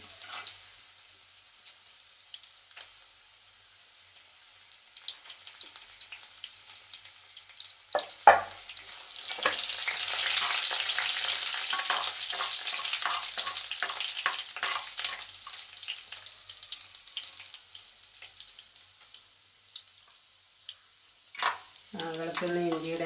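Ginger fries in hot oil for a fish curry, starting as a quiet pan clatter, then rising into a bright, crackling sizzle that lasts about twelve seconds before utensil clinks and stirring.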